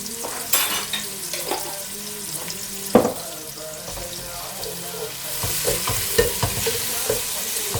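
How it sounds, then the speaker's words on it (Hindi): Cumin seeds dropped into hot oil for moong dal khichdi crackle and sizzle, with a sharp clatter of a spoon on the pot and frying that swells louder toward the end. "और तकरीबन हाफ टेबल स्पून इसमें ज़ीरा ऐड करेंगे"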